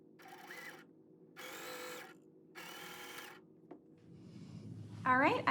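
Three short bursts of a sewing machine running in quick succession, each a steady mechanical whir, followed by a person speaking at the end.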